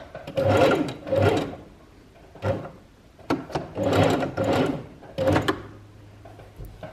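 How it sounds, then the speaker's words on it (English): A sewing machine stitches fabric and then back stitches, in several loud close bursts of rapid needle clatter separated by short pauses. "We're going to do a couple stitches and then back stitch."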